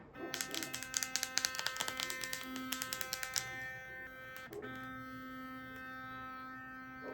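A bixdo W60 blue-light whitening electric toothbrush runs with a high, steady buzzing whine, pulsing in quick rhythmic bursts at first, then stopping briefly and resuming as a continuous close drone.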